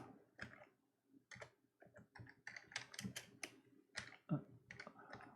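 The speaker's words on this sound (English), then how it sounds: "So let's just type a quick program in." Keys clacking on an RC2014 computer keyboard as a BASIC program is typed in, a close, uneven run of quick clicks in short bursts with brief pauses between words.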